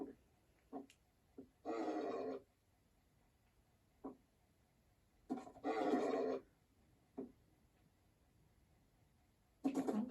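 Horse neighing in a Minecraft-style video game, three loud drawn-out whinnies spaced a few seconds apart, separated by short snorts and soft clicks in near silence.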